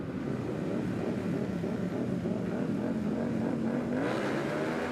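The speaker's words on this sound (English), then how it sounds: "Revs are up." Racing motorcycles at the start of a Twins Cup race at Road Atlanta hold a steady, loud engine drone that climbs slightly in pitch as the revs build toward the lights going out.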